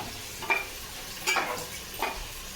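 Tomatoes frying in a pan, a soft background sizzle broken by three brief stirring scrapes spaced about a second apart, close by.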